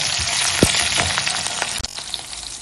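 Cumin, fennel and mustard seeds with green chillies fry in hot oil, giving a loud, close crackling sizzle with sharp pops over a short burst.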